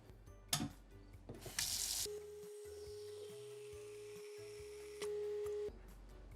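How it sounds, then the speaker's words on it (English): A cooking pot is filled about halfway with water from a kitchen tap, a steady hiss running for several seconds after a few clanks and a louder rush at the start, alone with no talk. "We're going to fill it with halfway with water"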